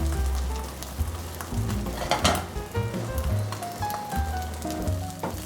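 Dutch pancake batter sizzling and frying in a hot pan, a loud, steady close crackle with occasional scrapes and clinks of a utensil against the pan.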